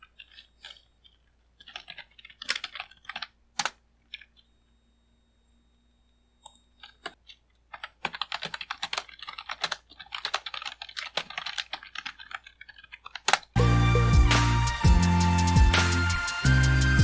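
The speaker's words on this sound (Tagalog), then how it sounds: "masyadong rinig yung keyboard" Computer keyboard being typed on in bursts of close, crisp key clicks with short pauses, then a louder, denser stretch of rapid clacking near the end; no talking.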